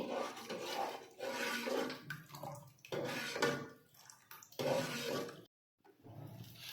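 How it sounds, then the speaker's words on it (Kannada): Sambar coming to a boil in a pot on a high gas flame, bursts of bubbling and gurgling in several waves with brief pauses and one short silent gap. "ನೋಡ್ರಿ ಈಗ ಸಾಂಬಾರು ಕುದಿಯಾಕತ್ತೈತಿ"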